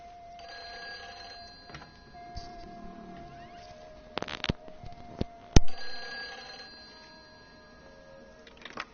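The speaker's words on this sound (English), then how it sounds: "I hear that bloody phone." An old-fashioned telephone from the game Everyone's Gone to the Rapture rings in repeated bursts through quiet ambience, with a few sharp knocks and clicks in the middle and no speech.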